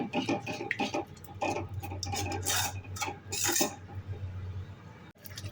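A spoon scrapes and stirs through thick paneer masala curry in a pan in repeated uneven strokes, with a steady low hum beneath.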